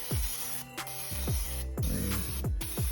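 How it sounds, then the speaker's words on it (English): Hissing bursts of cooking spray onto a non-stick air fryer surface, close by, over a steady rhythmic thumping in the background. "Got some cooking spray."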